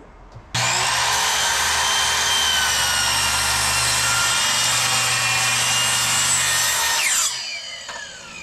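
A power saw cuts wooden side boards for a potato and onion storage bin, starting abruptly and running in one loud, steady whine for several seconds before spinning down.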